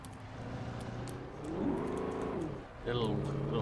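A car engine in the video game Alan Wake revs, climbing and falling in pitch as the vehicle pulls away, with someone talking over the motor.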